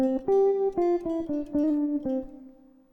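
A short plucked guitar phrase: a handful of picked notes with a quick slide, ringing clearly, then the last note fading out alone.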